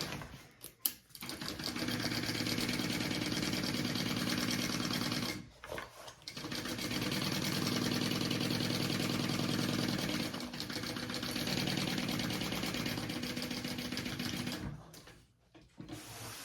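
A sewing machine stitches a seam on a Halloween-themed embroidered crossbody bag, running in long, steady bursts with brief stops near the start, middle and end, close and loud with no voices.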